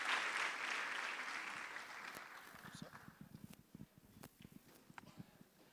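Audience applause at a university statement launch event, loud and dense at first, then thinning into scattered individual claps and fading toward the end.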